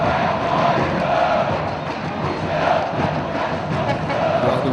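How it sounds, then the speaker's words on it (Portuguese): Vasco supporters sing in São Januário stadium during a 2008 Brazilian league match, a massed crowd chant rolling continuously at a distance, loud and unbroken throughout. "Canta a torcida do Vasco aqui em São Januário"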